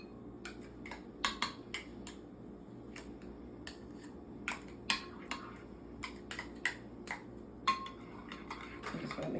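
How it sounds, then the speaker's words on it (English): Mayonnaise and ketchup are stirred together in a bowl. The spoon gives soft, irregular clinks and taps against the dish, quiet and close, with a low steady hum beneath. "I'm just gonna mix this together."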